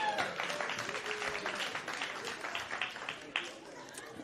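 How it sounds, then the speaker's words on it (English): People at an award ceremony for a food systems innovation challenge clap for themselves, giving moderate, somewhat thin applause with voices and cheering mixed in, before a short dip and a brief swell. "You can give yourselves a big round of applause."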